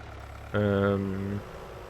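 A John Deere 6M tractor in Farming Simulator 19 pulls a 100 horsepower cultivator, its steady, even engine drone swelling for just under a second before easing off, alone without talk.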